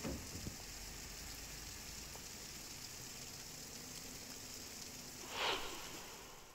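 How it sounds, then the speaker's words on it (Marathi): Heavy monsoon rain falls around Lonavala in Maharashtra as a steady, dense hiss, with a brief louder swell near the end and a faint engine hum underneath. "लोणावळा आणि परिसरात तुफान पाऊस पडतोय"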